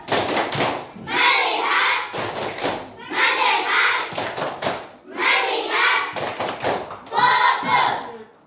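Schoolchildren in an Indonesian classroom perform a rhythmic focus-clapping routine, chanting aloud together between quick sets of sharp unison claps, so the clapping and young voices alternate in a steady, loud pattern.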